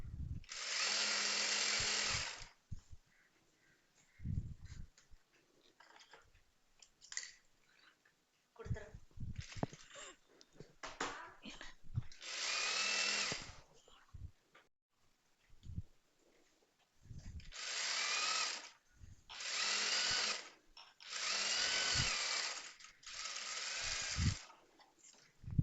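A sewing machine stitches the folded quarter-inch hem along a towel's edge in bursts of steady whirring. Several loud runs are separated by pauses, and talking is heard between them.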